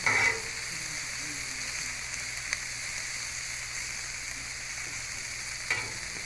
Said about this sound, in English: I'm grilling a little onion here to throw on them.